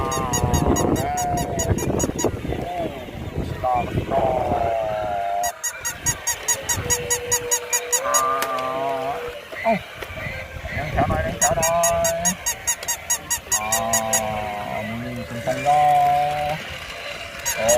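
Ducks honk loudly and repeatedly right beside a car wheel, their nasal calls coming in close, overlapping bursts throughout.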